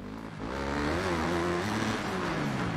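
A motorcycle engine in the Monster Energy Supercross 5 video game revs up and holds a steady, rising drone, loud and close, with no talk over it.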